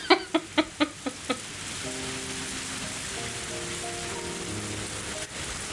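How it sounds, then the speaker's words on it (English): Steady rain falls in the visual novel game Higurashi When They Cry, a constant wash of hiss that follows a quick series of six soft tapping sounds at the start. "the rain doesn't seem to want to stop"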